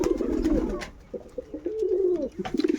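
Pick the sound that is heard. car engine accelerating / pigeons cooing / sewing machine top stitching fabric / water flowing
pigeons cooing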